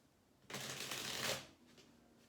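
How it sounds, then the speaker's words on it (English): A single brisk riffle of a tarot card deck being shuffled, lasting about a second, close and soft, with quiet before and after. "I want to give this third deck one more good shuffle."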